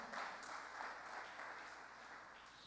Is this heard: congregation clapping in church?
yes